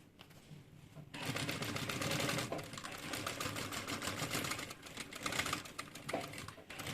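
A sewing machine stitches the lining of a handbag in rapid mechanical bursts that start after a brief quiet, running steadily with short pauses and fairly close.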